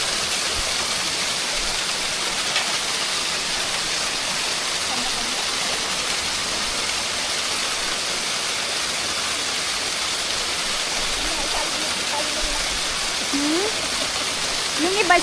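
The Dai Sek stream flows as a steady, broad rush of water that sounds close and continuous. Faint voices come through near the end.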